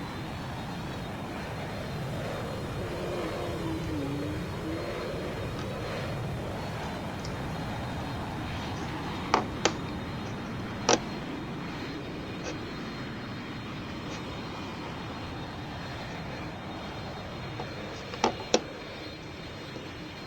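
A Boeing 747 takes off, its engines a steady distant roar that swells gently and holds, with a few sharp clicks and knocks near the microphone.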